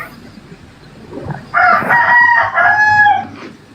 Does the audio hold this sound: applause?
no